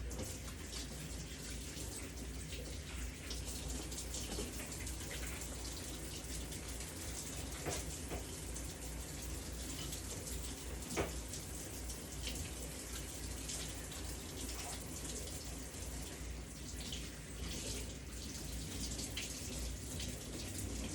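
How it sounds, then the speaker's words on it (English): A kitchen tap runs in a steady, even stream as hands are washed under it. The water stays fairly faint throughout, with light splashes and no speech. "While I do that, I'm gonna wash my hands again."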